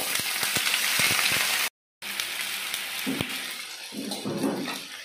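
Potatoes frying in oil in a home kitchen, a steady broadband sizzle that runs continuously and cuts out briefly partway before resuming, with faint clatter of stirring near the end.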